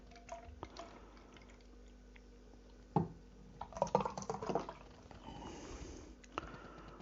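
Utopian British Lager is poured from a can into a glass, with faint glugging liquid, a few clinks and foam fizzing up, fairly quiet and close.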